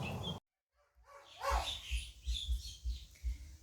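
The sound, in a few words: dog barking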